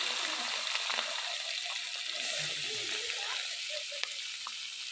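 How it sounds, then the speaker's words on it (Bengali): Puti fish coated in spice paste frying in hot oil in a kadai, giving a steady, close sizzling hiss throughout with a few sharper pops and crackles. "এবার মাছগুলো ভেজে নেব।"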